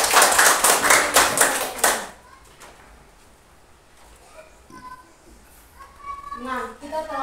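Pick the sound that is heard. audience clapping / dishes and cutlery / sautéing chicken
audience clapping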